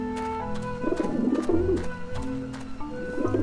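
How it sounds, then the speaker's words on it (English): Pigeons in the video game Grim Fandango Remastered coo in soft, warbling phrases over a background of steady musical tones, with several coos overlapping in close succession. "There's a lot of pigeons."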